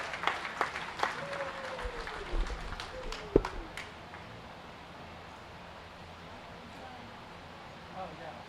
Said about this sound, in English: let's give Brooke a very nice round of applause for doing a great job